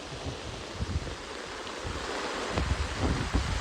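Rain pours during a sudden windy storm, a steady rushing wash with gusty low rumbles rising and falling.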